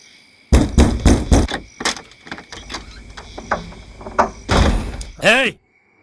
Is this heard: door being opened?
yes